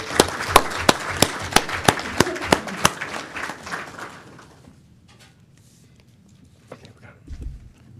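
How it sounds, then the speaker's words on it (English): Applause at a school district board meeting honoring staff: a steady round of clapping with a few sharp, prominent claps standing out, fading after about four seconds into quiet room noise and faint movement. "Can we have a nice round of applause for all of these people?"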